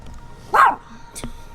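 A dog barks once sharply at close range, followed a moment later by a short higher yip, with quiet background between.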